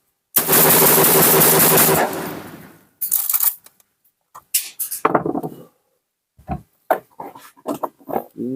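A Saiga semi-automatic shotgun fires a long, dense burst of rapid shots up close for about two seconds, followed by scattered single blasts and short bursts with brief gaps between them.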